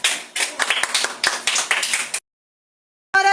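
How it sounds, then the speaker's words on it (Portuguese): Children clap together in a burst of quick, slightly uneven hand claps at a church children's lesson, then fall silent before a brief return of sound. "Salve de palmas para Jesus"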